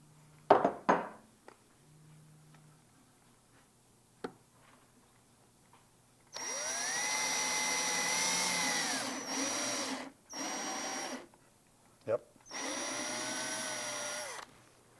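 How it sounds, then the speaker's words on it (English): A power drill with a nail chucked in place of a bit bores a hole in birdhouse wood, whining steadily for about four seconds, pausing, then running in two shorter bursts, loud and close with no talk. "Now use the nail to drill a hole right about there."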